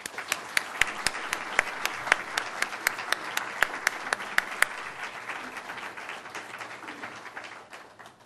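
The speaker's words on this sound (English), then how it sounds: "So if we could give these volunteers a round of applause." An audience claps in applause for volunteers at an awards event, a steady, full round of clapping with a few sharp individual claps standing out, gradually thinning toward the end.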